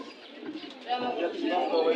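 Male pigeon of the black-winged, black-tailed fancy type cooing at a busy Bangladeshi pigeon market, soft repeated coos set against steady crowd murmur and nearby talking.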